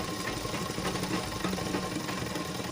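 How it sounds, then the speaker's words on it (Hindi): A sewing machine double-stitches a salwar seam with an even, continuous mechanical whirr at moderate volume, heard on its own without speech. "अब इस तरह से हम डबल सिलाई कर ले रहे हैं और ऊपर लाके हम इसे पक्का कर लेंगे।"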